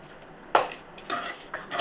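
Mango pulihora tamarind rice being mixed in a metal pot: a few sharp clinks and scrapes of a spoon against the pot, close but fairly quiet, spaced irregularly with no talking.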